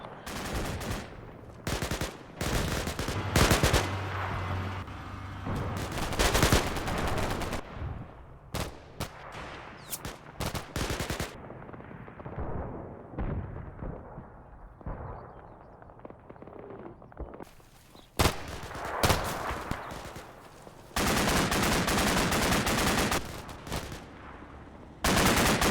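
Heavy gunfire from a firefight across a swamp in Combat Mission Cold War, machine-gun bursts and rifle shots cracking in dense clusters, with quieter lulls between loud volleys and no talk.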